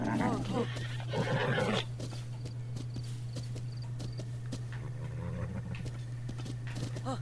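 A horse whinnies in The Legend of Zelda: Breath of the Wild over steady hooves clip-clopping, with a constant electronic hum underneath and a voice talking briefly at the start.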